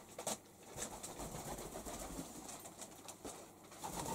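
Pigeons cooing in the morning, low soft calls repeating close by, with occasional rustles and light wing flutters in a faint outdoor setting.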